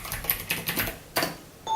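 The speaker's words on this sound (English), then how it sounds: "So we will type in carols." A code word being typed into a keypad during a Christmas treasure hunt, a short run of distinct clicking key presses in an uneven rhythm, close and fairly quiet, with one last press after a pause.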